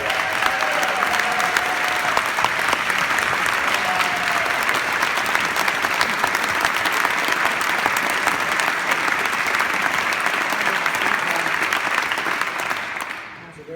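Sustained applause from a legislative chamber crowd thanking staff as the session closes, steady dense clapping throughout that fades out at the end.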